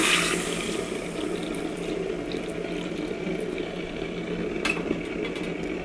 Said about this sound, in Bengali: এবারে গরম জল ঢেলে দিচ্ছি।